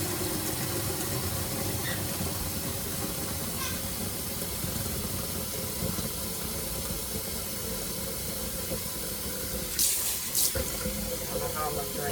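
Water runs steadily from a tap into a small mini washing machine holding socks, a continuous faint hiss and splash indoors, with a couple of brief sharp squawks from a cockatoo near the end.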